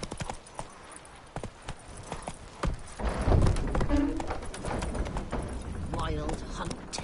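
Hooves of Roach, a horse in The Witcher 3: Wild Hunt video game, clip-clop in a steady trotting rhythm, close and fairly loud, with a voice talking over them midway.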